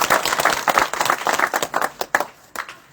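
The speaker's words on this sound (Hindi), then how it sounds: "इस पूरी रामनगर बस्ती की तरफ से हर्ष भाई का जोरदार स्वागत करते हैं।" Brisk clapping from a crowd at an election rally as a guest is welcomed, a dense run of hand claps that fades slightly toward the end.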